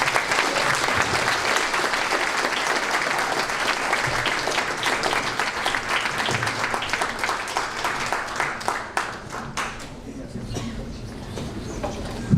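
An audience at a New York journalism hall of fame awards ceremony claps loudly and continuously, a thick sustained round of applause that thins slightly toward the end.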